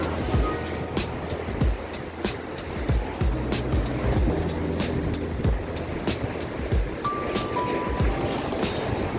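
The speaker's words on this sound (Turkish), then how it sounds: "Evet arkadaşlar görüyorsunuz deniz" Sea waves on a Turkish shore break and wash in over and over, with repeated surges and crashes close by, mixed with scattered clatter and knocks, and no clear talk over them.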